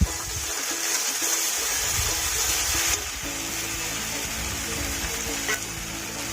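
Cumin-coriander and ginger-garlic paste frying with cashew and poppy seed paste in hot oil for a prawn curry, a steady close hiss and bubbling sizzle with a slight shift partway through, no talk.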